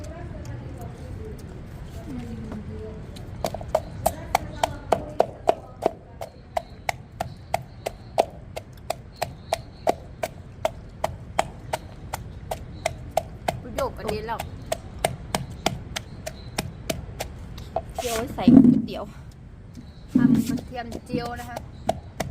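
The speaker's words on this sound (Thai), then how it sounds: "เดี๋ยวไปดูนุ้ยมันตำกระเทียมไปนดีกว่า" Garlic being pounded in a mortar, a long run of regular, close wooden thuds with short pauses, while people talk over and between the strikes.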